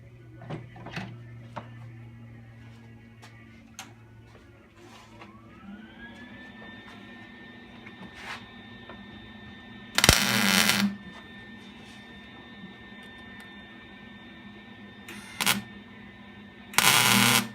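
Tack welding a cap onto rat rod headers for a small-block Chevy 350: a few short, loud crackling bursts of arc welding stand out over a quiet shop hum with a steady tone.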